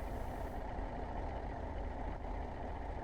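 Old manual coach bus from the 303 series in the OMSI 2 bus simulator, its engine giving a steady, broad low rumble that holds throughout with no talking.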